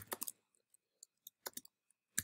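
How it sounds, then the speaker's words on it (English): A computer keyboard is typed on in a few sparse, sharp clicks with pauses between short bursts, close and quiet against near silence. "here's my keyboard."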